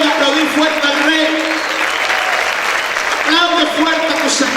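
A church congregation applauds loudly and steadily, dense clapping filling the room throughout, with a preacher's voice calling out over it at the start and again near the end.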